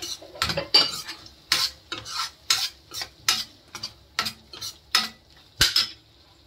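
Green chilies and turmeric are stirred in a metal pan, with about a dozen rhythmic spoon scrapes and clinks over a soft sizzle, close and fairly loud, with no one speaking.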